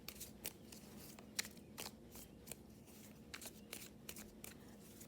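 Tarot cards are shuffled in a soft, steady stream of papery riffles and flicks, close and quiet over faint room noise.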